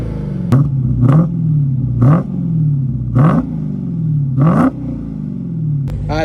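A supercharged Dodge Hellcat muscle car engine revs hard about five times in quick succession, each throttle blip rising then falling back to a deep, loud idle rumble close by, with no talking.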